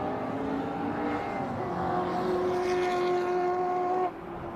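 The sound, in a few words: MG race car engine on the track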